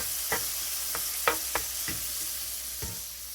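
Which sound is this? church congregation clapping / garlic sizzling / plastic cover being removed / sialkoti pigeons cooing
garlic sizzling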